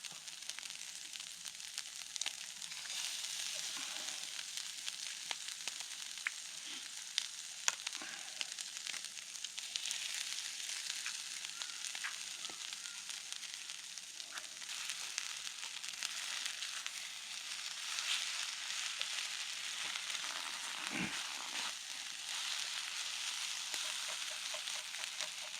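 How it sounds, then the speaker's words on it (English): Eggs frying in a pan on a small Knot Firebox stove outdoors at an overlanding camp, a steady, close sizzle and crackle running evenly throughout with no talking. "Time to throw some eggs in there."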